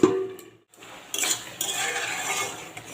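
A lid clatters down onto a cooking pot of simmering ridge gourd, potato and chickpea curry, giving a couple of short metallic knocks close by over a soft background hiss.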